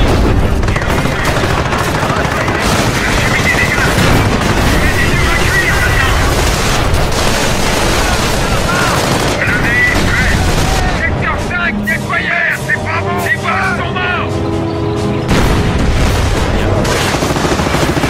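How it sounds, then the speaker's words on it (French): Sustained gunfire with bursts and heavy explosions from a French-language war film, dense and loud throughout the scene, with soldiers' voices shouting over the combat. "On essuie des tirs."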